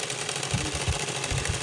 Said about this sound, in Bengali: আমি সেলাই করে নিচ্ছি।